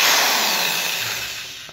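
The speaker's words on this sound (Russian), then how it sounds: "беру в руки дрель и поехали" Electric drill driving screws to fix baseboards during furniture assembly, a loud whirring burst that starts strong and gradually winds down, heard alone at close range.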